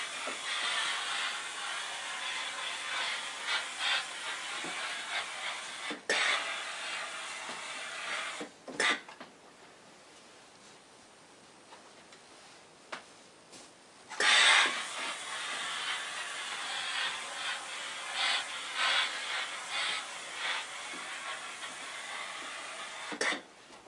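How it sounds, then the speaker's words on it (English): Philips PerfectCare Expert steam generator iron pushing out a steady, fairly loud hiss of steam onto folded clothes, with brief pauses and short sharp bursts through the clip. "I'm just going to leave this on there now for put a bit of steam through."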